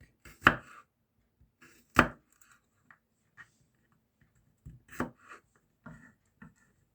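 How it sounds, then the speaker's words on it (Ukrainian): A knife chops garlic into cloves on a cutting board, a few sharp separate knocks spaced out, followed by softer small taps and no talk. "І також і нарізаємо на дольки часник."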